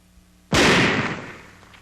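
An old one-piece oxygen tank shatters under a burst of .50 caliber machine gun fire. A single sudden loud blast is followed by a long, noisy decay, heard alone.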